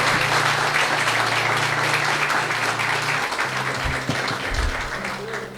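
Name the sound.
church congregation applauding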